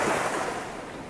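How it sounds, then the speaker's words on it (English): Waves wash over water near Prairie du Sac Dam, a steady broadband rush with wind noise, moderately faint and slowly fading, with no voices. "It really reminds me of the ocean with the wave."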